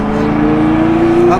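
A Carrera Cup race car passes on track, a loud sustained engine note that climbs slightly in pitch as it goes by close, with a brief rise at the end.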